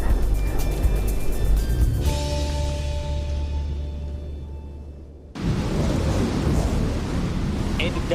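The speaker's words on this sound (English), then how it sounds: "End of day 3, you can hear a storm raging outside." Antarctic storm with forecast winds over 40 knots buffeting a tent, loud roaring gusts and flapping, fading briefly before a sudden renewed blast of wind noise.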